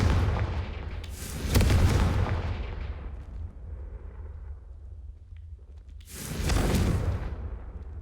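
Two loud fiery blasts from the Confringo blasting spell in a Harry Potter video game, each a broad booming burst with a whooshing rush, the first near the start and the second toward the end, with a low rumble between them.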